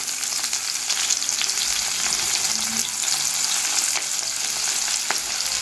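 Chopped onion frying in oil on low heat in a pan, browning lightly for duck curry, a constant close sizzle with occasional sharp crackles and soft stirring sounds, no speech.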